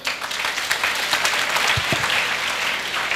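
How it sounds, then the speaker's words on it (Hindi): Crowd of students clapping at a career guidance event, a short burst of steady, fairly loud applause with no talking over it. "बिल्कुल ताली बजा सकते हैं।"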